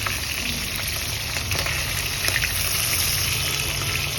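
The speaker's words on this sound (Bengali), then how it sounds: "যেহেতু এই পাশটা হয়ে গেছে ওই জন্য একটু ফ্লিপ করে দিচ্ছি, উল্টে দিচ্ছি যাতে এই পাশটাও ভাজা হয়ে যায়" Chitol fish frying in oil as it is flipped, a dense continuous close sizzle with faint crackles over a steady low rumble.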